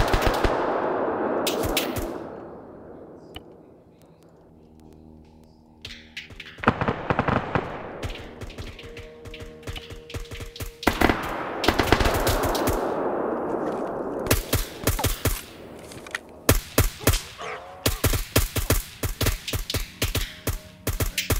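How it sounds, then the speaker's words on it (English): Suppressive machine gun fire rings out in an Operation Red Wings combat video game as rapid loud bursts of shots with clanging impacts, broken by a quieter stretch and then resuming in steady rhythmic volleys. "50 meters, bravo, suppressive fire now."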